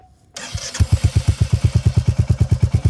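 A Royal Enfield Hunter 350 motorcycle fires up after a short silence and settles into a steady, loud idle, its exhaust thumping in an even, rapid pulse close by.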